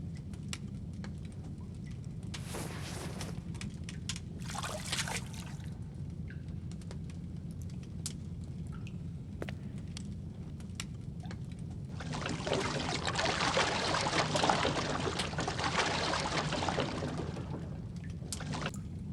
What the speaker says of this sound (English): I'll just throw it all in the water and it'll be done.